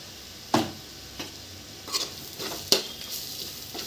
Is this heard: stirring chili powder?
yes